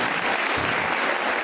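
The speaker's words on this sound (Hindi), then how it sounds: "कृपया जोरदार ताली स्वागत करें" Audience at a Harda Adivasi Day social event claps to welcome a speaker to the stage, a dense, steady burst of applause filling the short moment without pause.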